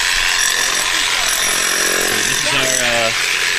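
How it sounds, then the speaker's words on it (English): A roughly 20-year-old Hilti small jackhammer powered by a generator runs loud and close at a dinosaur bone dig in Utah, giving a continuous harsh rattling drone with a brief shift in pitch near the end. "which is kind of a small jackhammer"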